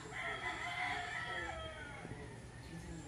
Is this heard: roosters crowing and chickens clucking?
yes